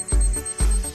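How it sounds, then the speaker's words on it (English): Lockbox motion and tamper alarm sounding two loud, close electronic beeps within a second, each with a thumping low onset. "an audible motion and tamper alarm that emits a loud noise if your box is bumped or moved."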